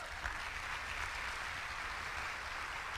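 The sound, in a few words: applause in church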